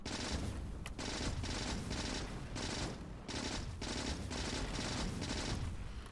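Uranium-ammo gun turrets in Factorio hammer away in sustained rapid bursts on a Deathworld map, loud and continuous with brief gaps between volleys, no voices.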